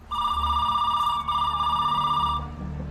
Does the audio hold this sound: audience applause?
no